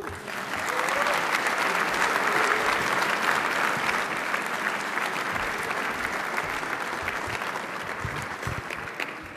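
An audience applauds steadily and loudly to welcome Amanda Lang onstage before her talk on Canada's innovation dilemma, the clapping dense and sustained throughout with a slight fade near the end.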